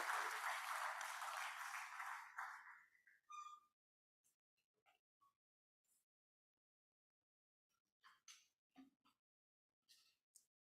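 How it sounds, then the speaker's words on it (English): Audience applause at an agribusiness event in Nigeria, a burst of clapping that fades over a few seconds into a quiet room with scattered faint sounds. "A round of applause for him as he comes forward"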